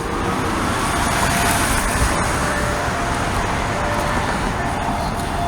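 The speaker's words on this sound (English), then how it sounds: "Oh, here comes our bus. There's our local bus." A local bus drives past on a London street, a steady broadband road rumble with traffic noise that stays close and fairly loud for the whole stretch, no clear peak.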